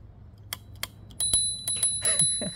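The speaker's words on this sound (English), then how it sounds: "That's the bell." Several sharp, bright dings ring out in quick succession, a small electric scooter handlebar bell struck repeatedly close by, with light clicking between rings.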